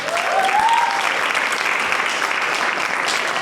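A crowd gives sustained applause to improv performers at a university show. The dense, even clapping carries a brief whistle near the start, with no talk over it.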